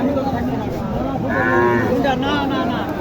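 A Sahiwal heifer moos loudly and close by at a busy village cattle market in Naogaon, one long drawn-out low call over a constant crowd murmur.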